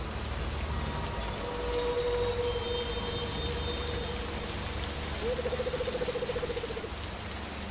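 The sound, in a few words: heavy rain falling in a forest at night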